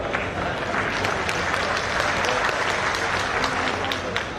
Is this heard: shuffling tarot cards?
no